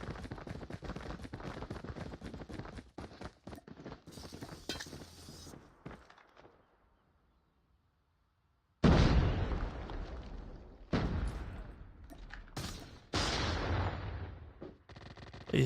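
Gunfire from a Call of Duty Mobile gunfight during a tournament match comes in rapid bursts of sharp cracks and clattering shots, broken by a brief silence, then several loud, dense volleys.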